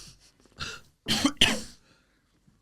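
A few sharp coughs, close and fairly loud, with a brief throat-clearing sound before them and short silences between.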